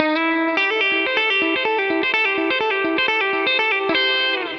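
Electric guitar with chorus-like effect plays a solo lick at full speed, a quick flurry of picked notes ringing close and loud, with no voice.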